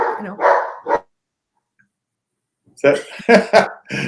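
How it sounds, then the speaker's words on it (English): Dog barks a few times indoors, short loud bursts near the start and again toward the end around a quiet gap, with conversation in the room. "Whose dog is that?"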